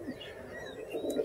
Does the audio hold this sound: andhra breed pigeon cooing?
yes